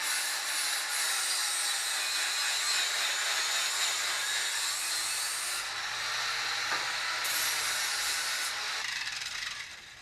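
Steady, continuous hissing and crackling of welding on a steel control arm jig coupler, close and fairly loud, running unbroken for the whole stretch with no voices.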